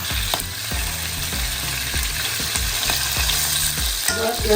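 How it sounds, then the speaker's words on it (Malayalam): Chicken pieces for biryani fry on high flame in oil with a loud, constant sizzle, punctuated by a series of sharp rhythmic scrapes and knocks of a utensil against the pan, with no talking. "ഫ്ലെയിം കൂട്ടി വെച്ചിട്ട് ഒരു കുറച്ച് സമയം നമുക്കൊന്ന് ഫ്രൈ ചെയ്തിട്ട് കോരിയെടുക്കാം"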